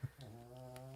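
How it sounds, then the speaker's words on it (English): A dog snores softly in a quiet room, a single faint drawn-out breath with a low, steady rasp. "if you guys hear a snoring sound in the background"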